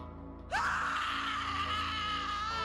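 A woman's terrifying scream, used as a horror story sound effect, bursts in suddenly after near-silence and holds as a loud, sustained, wavering shriek to the end.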